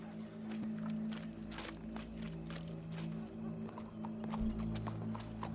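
Horse hooves clip-clop at a steady walking pace in the Western video game Red Dead Redemption 2, crisp repeated hoof strikes over a low ambient game hum, moderately near, with no speech.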